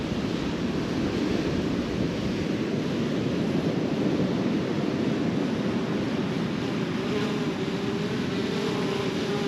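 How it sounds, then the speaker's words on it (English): Rough ocean surf pounds and rushes along a fishing beach, a continuous loud roar of breaking waves mixed with wind buffeting the microphone. "the surf was just too rough to fish"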